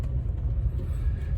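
New York City street traffic rumbles past close by, a dense low engine drone from cars filling the short stretch without voices.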